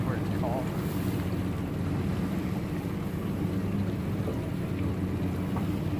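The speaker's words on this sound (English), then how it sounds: "there are a lot of big waves when the boats pass by" Boats motoring past on a river during a salmon dipnetting trip in Soldotna, Alaska, with a steady low engine rumble and wash of waves plus wind buffeting the microphone throughout.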